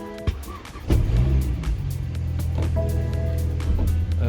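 A 2019 BMW X3 G01 under rebuild, powered through a jump starter, comes to life with a sharp click and thump, then a steady low electrical hum with faint chimes and clicks.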